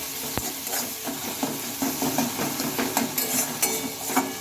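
Salt and turmeric powder are worked into crushed flat beans in a pan, giving a steady close scraping and stirring with light sizzle and occasional clinks of the utensil, and no voices.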